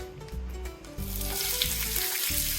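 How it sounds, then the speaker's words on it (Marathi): Chopped onion frying in hot oil in a pan, a short clip where a background tone fades as a steady bright sizzle swells up and holds, near and unaccompanied by talk. "कांदा छान प्रकारे तेलात फ्राय करून घेणार आहोत"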